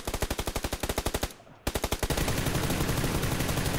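Rapid automatic gunfire in PUBG Lite, a steady evenly spaced burst of shots that stops briefly, resumes, then blurs into a dense continuous roar, loud and close with no talk over it.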